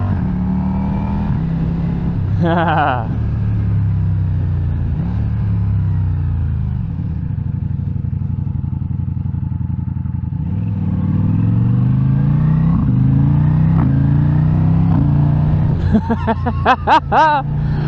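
A 2023 Ducati V4 Diavel motorcycle engine runs loud and close, pitch rising and falling as it revs and shifts, ending with rapid throttle blips.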